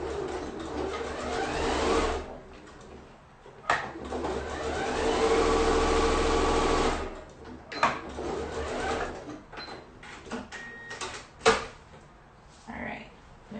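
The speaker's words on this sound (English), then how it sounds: "I'm just gonna top stitch it because I got my machine ready to go" A sewing machine top stitches a fabric zipper pouch in two bursts of close, even motor whirring, with thread-trimming clicks and handling noises in between.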